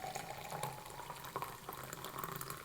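Boiling water is poured into a coffee maker up to a fill mark, a quiet continuous trickling stream with faint splashes, close by and without voices.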